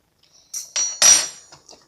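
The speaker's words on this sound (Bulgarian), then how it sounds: "и нож, за да размажем" A knife clinks and scrapes against a plate while margarine is spread on a slice of toasted bread, giving a few short, close, bright metallic clinks spaced unevenly.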